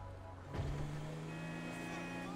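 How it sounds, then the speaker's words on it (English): A car engine in GTA 5 revs and drops through a sharp downshift, with a brief burst of mechanical noise followed by a steady droning engine tone, loud and close. "That downshift was crazy."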